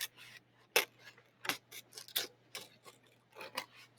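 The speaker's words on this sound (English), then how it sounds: "And then you're going to cut out the white paper along the edge." Scissors snip through white paper along an edge, giving a quiet, irregular series of sharp, close cutting clicks and rasps over a low steady hum.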